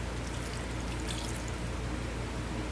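Pineapple juice and water poured into cake mix, a continuous steady liquid rush with faint trickling, even in level throughout and close, with no one talking.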